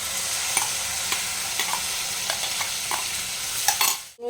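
Tomato paste stir-fried in a pan, a constant crackling sizzle with light periodic spatula strokes, close up and without voices, ending abruptly.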